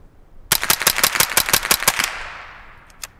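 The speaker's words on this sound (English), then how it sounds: "The day isn't complete without a mag dump of 22 long rifle." A .22 Long Rifle fired through a Dead Air Mask suppressor in a fast mag dump: about ten sharp, evenly spaced cracks in quick succession, then a fading ring and one or two final isolated shots.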